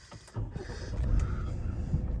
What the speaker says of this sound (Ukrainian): Ось так гарно заводиться двигун.